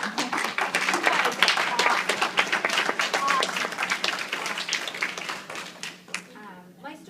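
An audience at a speaking event breaks into hand clapping, a dense, fast patter of many claps close by that holds steady for several seconds, then thins out and fades as a voice begins speaking near the end.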